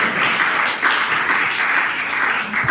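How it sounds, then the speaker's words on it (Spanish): Congregation in a church clapping together, a dense steady wash of applause close and continuous throughout with no clear voices over it. "Aplauda la presencia del Señor. Apláudalo con libertad"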